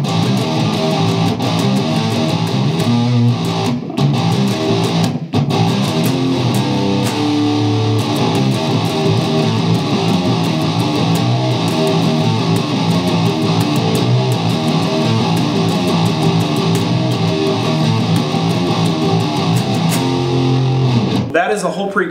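Electric guitar plays a four-bar pre-chorus riff, loud and continuous with a distorted, effects-laden tone, running steadily until it breaks off near the end.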